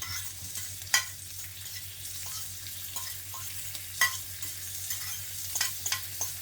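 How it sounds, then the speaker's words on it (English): Bacon, mushrooms and onions fry in a pan with a steady, soft sizzle, broken by occasional scrapes and clicks of a utensil stirring them; no talking. "Get all that bacon in there to fry off."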